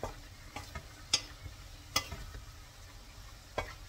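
Pork menudo being stirred in a pan, soft scraping and light sizzling with a few sharp utensil clicks against the pan, faint and close, with no talking.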